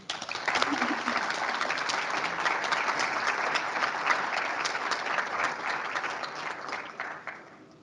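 Sustained applause from an audience at a scholarship breakfast honoring students fills the space, a dense wash of many hands clapping that gradually thins out toward the end.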